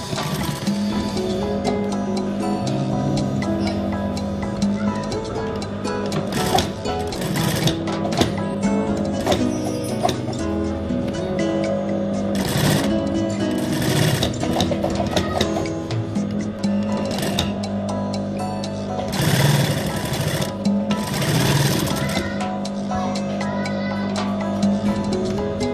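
A sewing machine stitches cycling gloves, a steady mechanical whir with rapid rattling and clicking bursts that keeps going throughout, as in a busy workshop.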